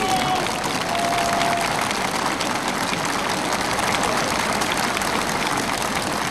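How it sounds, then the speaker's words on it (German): An enthusiastic crowd applauds the 1965 German champions Werder Bremen at a civic reception by the Lichtenfels town hall, a steady, dense wash of clapping heard through an old, hissy film recording, with a faint tone early on. "Während die Menge wieder begeisterten Beifall bringt"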